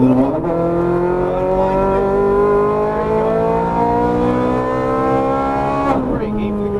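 A Ferrari 430 Scuderia engine revs up steadily, its pitch climbing for several seconds before easing off, heard from inside on a coned driving course with a voice coaching over it.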